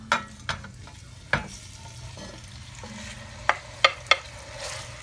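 Sausage and ground turkey sizzle in extra virgin olive oil in a Dutch oven, a steady close frying hiss broken by several sharp clanks and scrapes as the meat is stirred.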